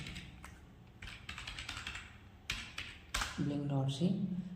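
Quick bursts of key clicks from someone typing on a computer keyboard, close and clear, while a person talks over part of it and a short tonal sound rises near the end.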